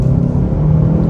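A 2024 Hyundai Kona N-Line pulling hard in second gear, a loud steady engine drone and rumble heard close from inside the cabin, with no voices.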